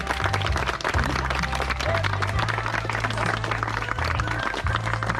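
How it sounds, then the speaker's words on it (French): Wedding guests applaud the couple, steady dense clapping from a crowd that runs throughout, with faint voices underneath. "on peut les applaudir, en effet, ils sont beaux alors"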